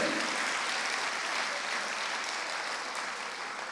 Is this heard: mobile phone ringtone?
no